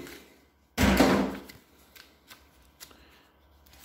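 Packaging for the user manual of a Samsung 970 Evo Plus NVMe SSD being torn or pulled open: one loud papery rip and rustle near the mic, followed by a few faint taps and handling sounds.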